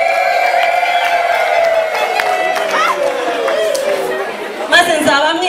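Women at a wedding ululate impundu in long, high, wavering trills that overlap and bend in pitch, loud and close, over a background of crowd chatter with a brief burst of cheering near the end.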